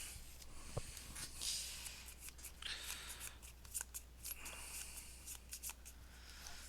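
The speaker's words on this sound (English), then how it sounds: "And then we gotta shuffle these up." Gloomhaven Jaws of the Lion game cards being shuffled by hand at a table, a faint series of quick papery riffles and snaps, fairly quiet and close with no talk.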